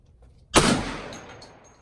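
A single AR rifle shot at an outdoor shooting range, one sharp loud crack followed by a short rolling echo that fades away.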